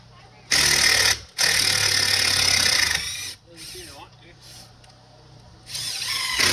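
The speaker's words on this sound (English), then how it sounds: "Now quick, put some screws in it." A power drill drives long screws into a roof truss during truss setting, giving loud, close, sustained whirring bursts that stop and restart, with a short lower-pitched stretch and brief talk in the pauses.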